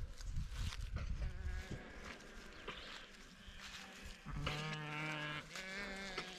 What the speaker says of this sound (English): One of these sheep is sneezing.